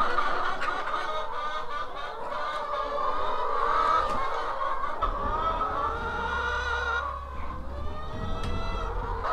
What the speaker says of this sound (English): Now that I'm out here, all the chickens are coming out here.